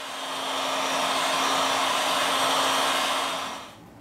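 A heat gun blows steadily for about four seconds as it warms the back cover of a Samsung A70 phone, a close, even hot-air roar that stops abruptly.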